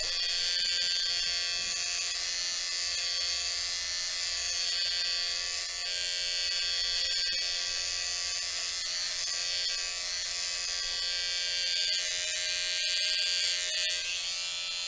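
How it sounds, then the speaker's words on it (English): An electric trimmer cuts a boy's hairline at home with a steady, close, high-pitched buzz that drones on without a break. "So I position the trimmer this way and I move back and forth."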